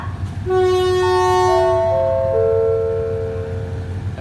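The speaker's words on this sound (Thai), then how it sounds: "ผมก็ลงมาจากขบวน 258 นะครับ รถไฟธรรมดา สายน้ำตกธนบุรีนะครับ" A station chime plays a descending sequence of clear tones over the steady low rumble of ordinary passenger train 258, Nam Tok to Thonburi, at Salaya station, Thailand, loud and close.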